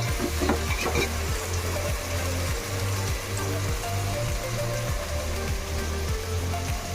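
Chili powder being stirred into sizzling tomato masala for egg biryani, a constant frying crackle with regular rhythmic scraping strokes of a spoon against the pan, close up.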